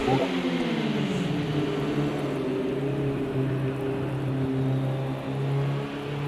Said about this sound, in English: You can hear tentatively Pete going around the turn number 3